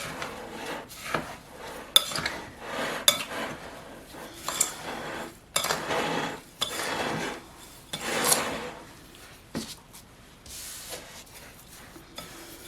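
Dry tub tea botanicals stirred by hand in a container, giving repeated dry rasping, rustling strokes in uneven bursts, close and fairly quiet with no talking.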